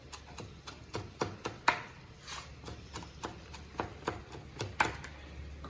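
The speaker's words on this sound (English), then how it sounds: "wad of herbs, and slice them" A knife slices through a bundle of herbs on a cutting board: a steady run of crisp, quiet chops at a brisk, regular rhythm, with no talking.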